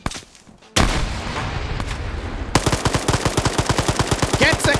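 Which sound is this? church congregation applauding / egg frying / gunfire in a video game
gunfire in a video game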